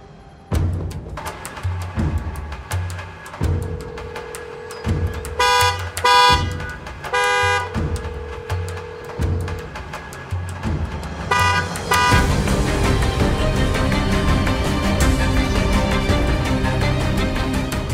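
A car horn honks repeatedly in short and long blasts, loud and nearby, over a running engine and outdoor noise that swells louder toward the end.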